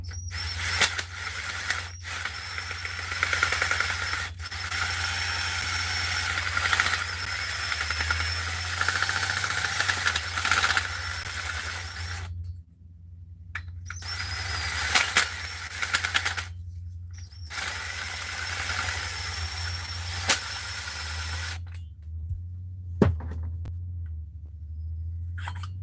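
An impact wrench used as a spinner on a 440 engine during a teardown buzzes in long steady runs, stopping and restarting several times with brief silent gaps, close and moderately loud.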